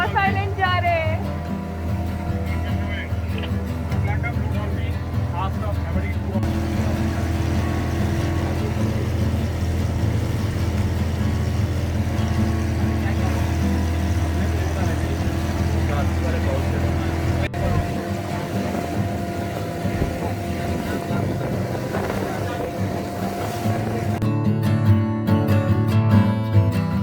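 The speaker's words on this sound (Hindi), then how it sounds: "हमारा फर्स्ट बोट राइड, हम रॉस आइलैंड जा रहे हैं।" Steady droning motorboat engine and wash during a boat ride to Ross Island in the Andaman Islands, continuous and fairly loud throughout with a brief rattle near the end.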